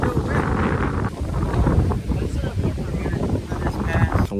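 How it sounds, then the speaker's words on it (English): Strong wind buffets the microphone in a continuous loud roar at a dirt bike riding spot, gusting unevenly throughout. "Way too windy right now."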